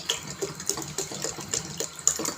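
Water poured into a pot of lentils for chicken haleem, a close splashing and gurgling pour with uneven bursts, heard alone without talk.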